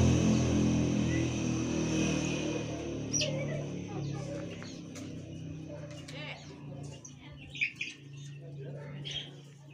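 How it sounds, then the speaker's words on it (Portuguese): Chickens in the coop where the hens sleep give soft scattered clucks and chirps over a low background rumble, with a person talking quietly at times. "Aqui agora é o lugar que as galinhas vão dormir."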